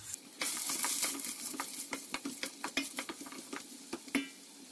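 Peppers fry in oil, sizzling steadily in a pan while a utensil stirs, producing a series of distinct scraping clicks against the pan, close and fairly quiet, with no talk.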